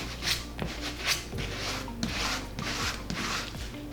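A painted gallery-wall mount is scuffed with an abrasive pad in steady back-and-forth strokes, giving close rhythmic rubbing swishes, about six passes with no talking.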